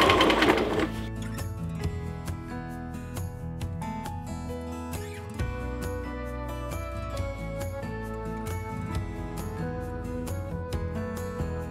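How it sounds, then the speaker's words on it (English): Sewing machine stitching labels onto knitwear in a small workshop, a steady mechanical clatter running continuously and loud throughout with rapid rhythmic needle strikes. "I always sew the labels on"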